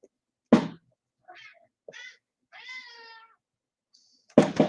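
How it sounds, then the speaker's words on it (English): A male house cat meows several times indoors, giving short, close, distinct calls with a longer drawn-out meow in the middle, set between a couple of sharp thumps. "Apparently my cat has an opinion on the subject and he must chime in."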